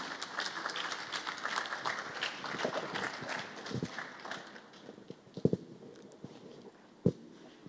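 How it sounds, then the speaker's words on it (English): An audience claps at a media lecture in the Wole Soyinka Centre series: dense, lively applause that gradually thins out, leaving a few scattered, louder single claps near the end. "A round of applause for Professor Sylvester"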